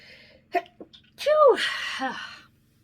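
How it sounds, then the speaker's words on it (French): A person sneezes once, close up, after a couple of short sharp breaths, with a brief voiced trail afterward. "Je vais éternuer."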